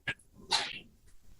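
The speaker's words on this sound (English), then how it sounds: "Did you sneeze?" A single short sneeze in a courtroom, a quick sharp burst after a faint breath, fairly quiet and alone.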